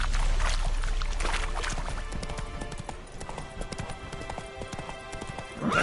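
Roach, a horse in the video game Witcher 3, gallops with rapid, rhythmic hoof clip-clops up close, loud at first and easing slightly, amid game ambience and a brief whinny-like burst at the end.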